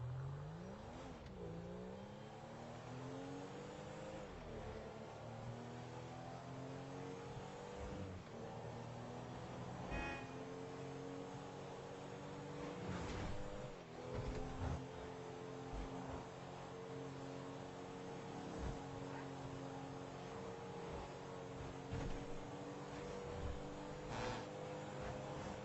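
A car drives in Grand Theft Auto 5, its engine rising and falling through repeated revs and gear changes, a steady mid-level roar with occasional thuds and bumps along the way.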